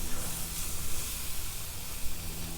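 Rib eye steak sizzles on a hot grill, a steady close hiss and crackle that runs unbroken and fairly loud the whole time, with no voices over it.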